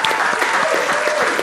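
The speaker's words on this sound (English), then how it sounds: "Let's have a clap for all of us." An audience claps steadily, a short, loud burst of applause filling the room with little else heard.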